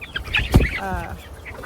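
Chickens cluck and squawk close by in a brief, busy burst, with a sharp thump midway and a drawn-out rising call after it.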